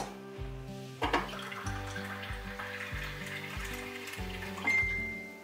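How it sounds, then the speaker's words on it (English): Water runs and splashes into a container for several seconds, a steady trickling pour behind repeating background music. "And I'm gonna put water"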